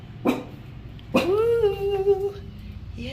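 A dog gives a sharp yip, then a second yip that stretches into a long, wavering whimper. The sounds are close and fairly loud, with no talking.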